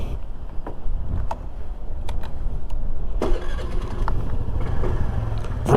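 A small Honda Navi scooter engine cranks and catches, settling into a steady low idle that sits close and fairly loud, with a sharper burst of revving near the end.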